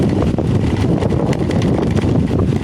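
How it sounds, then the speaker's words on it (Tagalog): Strong, gusty wind buffets the microphone continuously at a limestone cave campsite, a loud roaring rush with no voices. "Sobrang lakas lang ng hangin guys."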